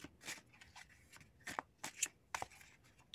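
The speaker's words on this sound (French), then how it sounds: "Alors, je vais battre les cartes." Tarot cards being shuffled by hand, a series of soft papery riffles and rubs in uneven bursts, close and fairly quiet.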